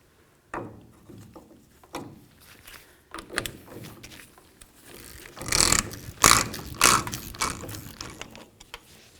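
A four-prong socket tool works the rear axle nut on a 1999–2007 Ford F-250 Super Duty, giving scattered metallic clicks and clunks that build into a louder burst of close ratcheting midway, with no voices.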